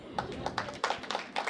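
Audience at a Hindi kavi sammelan poetry recital claps in a loose rhythm, a series of sharp hand claps, some doubled, fairly close, with faint background murmur.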